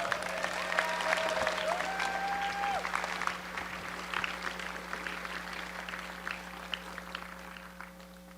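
Sustained audience applause at a virtual reality conference as panelists take the stage, a broad crowd of clapping over a steady electrical hum and a brief tonal sweep, gradually thinning out.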